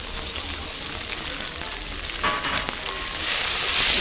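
Browned onions and freshly added garlic paste fry in oil for cholar dal, a loud continuous sizzle and hiss close to the pan, swelling slightly near the end, with no voice.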